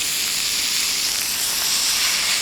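Steady, loud broadband sizzle of beef shin frying in olive oil in a hot pan, constant hiss with no pauses and no voices.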